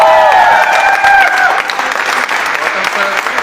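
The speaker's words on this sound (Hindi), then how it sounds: "तो मैं चाहता हूं हम सब जोरदार तालियां।" An audience at a Mercedes car delivery celebration bursts into loud, sustained applause, dense clapping carrying steadily from start to finish while a voice talks over it at the opening.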